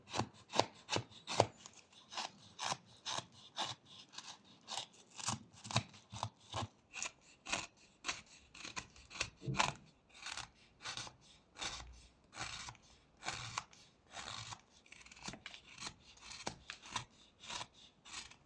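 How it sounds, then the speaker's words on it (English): A small carving knife slices and scrapes a block of wood while shaping a little dolphin, giving quiet, close, rhythmic cutting strokes repeated steadily throughout. "sliding the blade like this when cutting from this side works better than just pushing it straight down"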